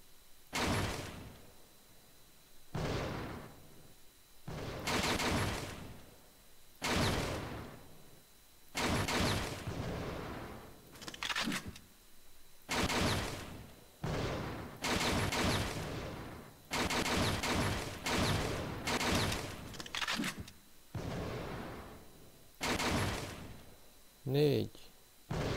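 Gunshots ring out at a video game shooting range, sharp broadband bursts repeating at irregular intervals for the whole stretch, single and clustered, with a voice talking between them.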